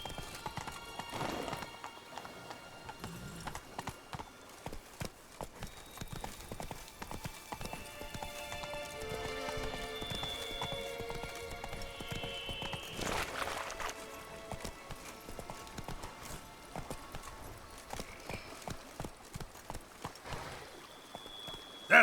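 Rhythmic hoofbeats of a horse galloping in The Witcher 3, steady and fairly close, with an occasional whinny and light rain-like patter in the game's ambience behind; no talking.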